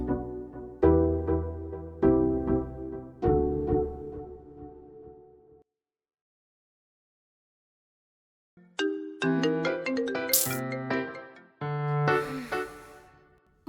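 A phone ringtone plays a repeated melodic chime pattern, stops for a few seconds of silence, then rings again with the same bright tones, fairly close and with no talk.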